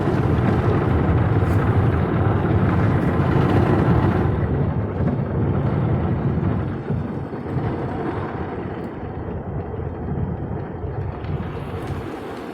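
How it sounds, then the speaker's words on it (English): Automatic car wash rinsing a Chevrolet Lumina Z34: a dense, steady rush of spraying water drumming on the car body, loud and continuous throughout, slightly softening in the later half. "It does rinse the soap they put on really fast."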